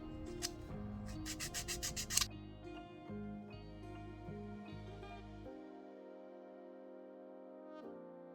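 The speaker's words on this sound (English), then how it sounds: "So I'm just going to show you my full file of this nail so we can see how well it cleans up." Nail file rubbing around the cuticle of a dip-powder manicure, a run of quick close scraping strokes at first, then quieter intermittent filing under a steady low hum.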